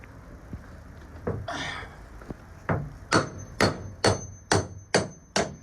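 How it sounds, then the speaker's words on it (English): A hammer bangs on rusty metal in a steady series of sharp, ringing strikes, a few scattered hits first, then about six evenly spaced blows close by. "So I'm gonna wail on them with a hammer for a little bit"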